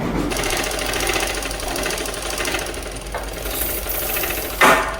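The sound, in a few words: sewing machine stitching salwar panels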